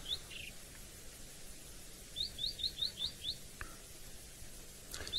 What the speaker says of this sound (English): we've got a new bird for the list. Wonderful, a white-browed scrub robin